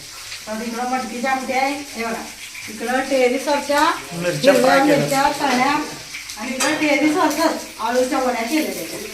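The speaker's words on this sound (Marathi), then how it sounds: "दुपारी करून ठेवलेल्या वड्या आता मग फ्राय करायला लागल्या" Leaf vadi, pre-made rolled leaf slices, frying in hot oil at home; a soft sizzle runs beneath women chatting continuously over it throughout.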